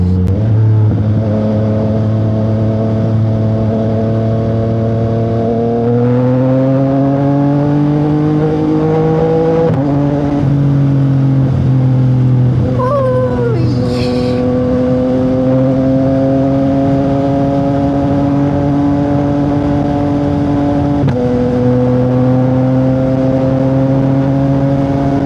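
A Yamaha MT-09 SP motorcycle engine revs hard under throttle during a wheelie on a morning ride in Tarlac, loud and close with rising pitch sweeps and gear changes, no voices.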